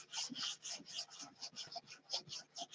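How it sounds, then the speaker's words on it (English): Wet sanding of a blocker coat using Windex as the lubricant, a close, steady rhythm of back-and-forth rasping strokes, about five per second, with a soft hiss on each pass. "we'll go ahead and wet sand it with Windex"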